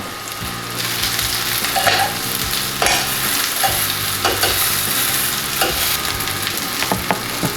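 Meatballs browning in a hot frying pan, a continuous close crackling sizzle with occasional stirring scrapes and pops, steady and unbroken throughout, no voices.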